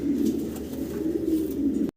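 Low, steady cooing of pigeons close by, continuous with no talking, ending abruptly.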